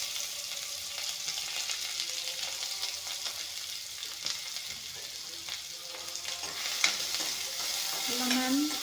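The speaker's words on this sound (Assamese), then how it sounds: "পিঁয়াজখিনি প্ৰথমতে ভাজি ল'ম। জলকীয়াখিনিও ওপৰত দি দিলোঁ একেলগে পিঁয়াজৰ লগত।" Sliced onions and green chillies fry in hot oil in a pan, a steady close sizzle with occasional stirring scrapes and clicks, moderately loud and continuous throughout, with no voice.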